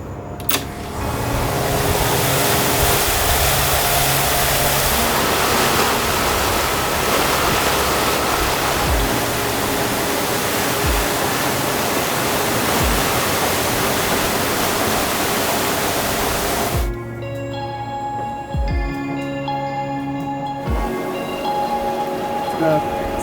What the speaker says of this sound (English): Pretty good sized waves pushing us.